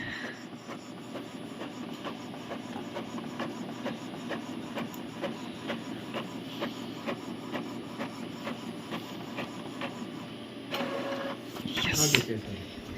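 An Epson EcoTank L3212 colour printer prints a page with a rapid, regular series of mechanical ticks, then a louder whirring burst of paper movement near the end.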